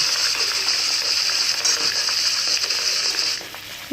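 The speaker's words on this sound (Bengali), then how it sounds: "একটু উল্টে পাল্টে মাছগুলোকে ভেজে নিচ্ছি" Pabda fish frying in hot oil in a kadai, giving a continuous bright sizzle and crackle that fades slightly just before the end.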